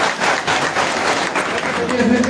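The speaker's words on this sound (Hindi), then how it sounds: "ताली बजाओ" An audience at a political party gathering claps, with a dense patter of applause that swells and continues under a raised voice.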